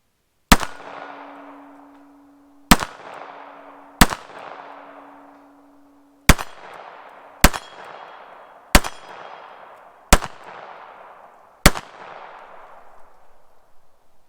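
A Bersa Thunder 380 pistol firing Remington full metal jacket rounds outdoors. Eight sharp, loud single shots come at irregular intervals of one to two seconds, each followed by a decaying echo.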